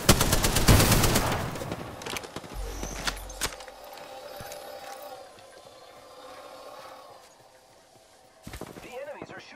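Enemies open fire in Apex Legends with a dense, loud burst of rapid gunfire, then scattered shots and clatter over a low background, followed by another brief burst near the end.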